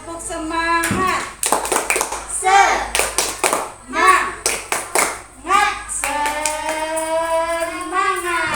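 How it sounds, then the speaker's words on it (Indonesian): Fifth-grade children in a primary school classroom perform a rhythmic spirit clap, sharp unison hand claps in bursts alternating with their chanted voices, loud and close. "Tepuk semangat."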